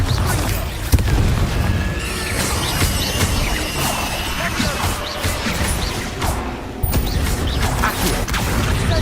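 Bombarda spell blast in the Hogwarts Legacy video game, a loud, cluttered mix of crashing impacts, booms, creaks and whooshes from game combat, sustained throughout.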